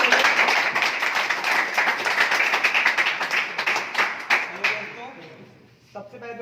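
Audience clapping at a Commerce Nation first-anniversary event as a speaker is welcomed, a dense steady patter of many hands that thins out and fades near the end, with a voice starting over the last moment.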